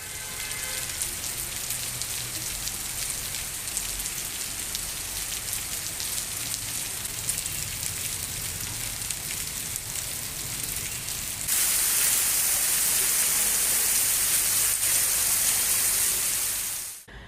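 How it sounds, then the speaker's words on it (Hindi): Heavy rain falls with strong wind in a steady, dense roar that grows noticeably louder and harsher partway through, then cuts off abruptly at the end. "वहीं शाम 6 बजे फिर एक बार वर्षा ने अपनी उपस्थिति तेज हवाओं के साथ दर्ज कराई"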